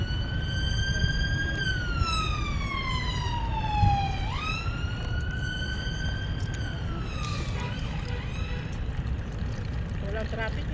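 An ambulance siren wails past in a street in the Philippines, its pitch sweeping down then back up as it passes nearby, loud over steady traffic rumble, with people chatting through it.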